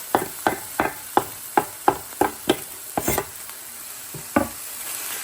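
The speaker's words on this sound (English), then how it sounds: "I'm going to toss those onions in with this hamburger." Onions and ground beef hamburger stirred together in a pan, giving a steady run of about ten sharp scraping strokes at a regular rhythm over a low sizzle, close and fairly loud, with no talking.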